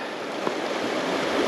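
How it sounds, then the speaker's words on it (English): A braided creek reshaped by flooding flows steadily, with a continuous broadband rush of moving water held at a moderate, even level and no voices. "This is a beautiful stream."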